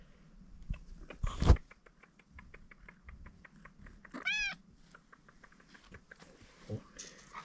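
A cat meows in a Saharan Berber village in the Moroccan desert, a short clear call near the middle of the clip, with scattered soft patter and faint speech around it.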